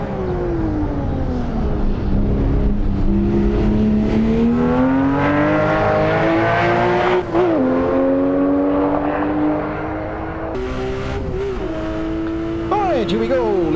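Racing engine of a Singer 911 or Porsche Carrera S lapping a track in Assetto Corsa, a loud steady drone that rises and falls with gear changes and revs, with someone talking over it throughout.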